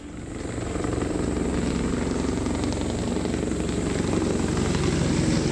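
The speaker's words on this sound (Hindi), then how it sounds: "ये जो आप देख रहे हैं योगी का हेलीकॉप्टर आपकी टेलीविजन स्क्रीन पर सैफई में लैंड करा।" A helicopter landing at Saifai, captured in news footage, gives a loud, steady rotor thrum and engine whine that stays close and constant throughout.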